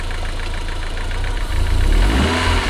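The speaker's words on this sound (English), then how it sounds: "You give that a small rev," MG TF VVC sports car engine idling steadily with a low thrum, then given a gentle, brief rev that lifts the note slightly toward the end.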